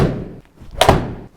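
Two sharp golf club strikes on balls during a practice session, each a solid thwack about half a second apart, close and loud with no talking.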